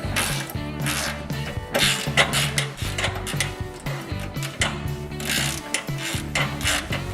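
Ratchet wrench tightening rusty bolts on a transfer case mount during a Mountaineer/Explorer BW 4410 transfer case install, a steady run of dense mechanical clicking with rhythmic bursts, close and continuous.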